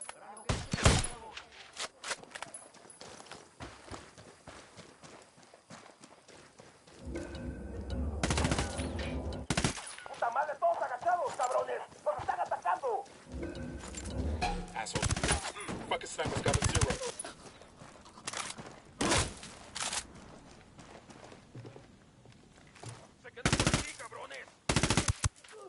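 Bursts of automatic gunfire from the video game Ghost Recon Wildlands, loud sharp volleys separated by quieter stretches, with chatter from players around them.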